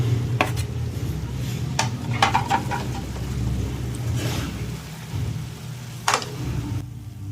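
Chicken fry masala being stirred in a pan with a spoon, repeated scraping and clinks of metal against the pan over a steady low hum, close and moderately loud, no talking.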